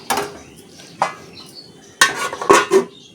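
A pot lid and utensils clatter while eggplant and nurula fish curry cooks, with several separate metallic knocks and scrapes close by over a faint simmer.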